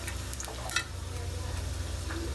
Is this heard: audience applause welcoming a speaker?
no